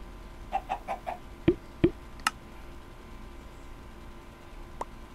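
A chicken in Minecraft Pocket Edition clucks in a few short, distinct bursts, with scattered soft pops and clicks from the game over a quiet background hum.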